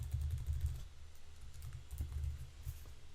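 Keystrokes on a computer keyboard entering a test Stripe card number at checkout, a quick irregular run of soft clicks in bursts, close and fairly quiet.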